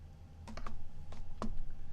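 Keyboard being detached from a 10 Zen tablet, a few quiet clicks and snaps in quick succession, close by.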